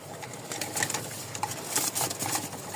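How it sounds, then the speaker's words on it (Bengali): Caged pigeons cooing at a breeding stall, low repeated coos under a busy bright background of rustling and other birds. "ডাক দেখলে বুঝতে পারবেন যে কবুতরগুলো ফুল হিটে আছে"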